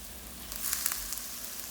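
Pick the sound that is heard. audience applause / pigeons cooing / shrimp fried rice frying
shrimp fried rice frying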